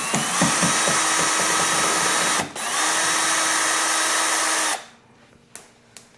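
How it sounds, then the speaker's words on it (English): Up close, a power drill works a screw out of a Yamaha SuperJet four-stroke watercraft hull while sponsons are installed, giving a loud sustained whine with one short dip, then it stops and a few sharp clicks follow. "try to drill that screw out"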